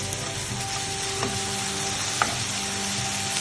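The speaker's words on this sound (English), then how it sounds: "Have to fry till it's lightly brown in color" Small nethili fish frying in oil in a pan, a steady dense sizzle with a couple of brief stirring clinks, close and continuous.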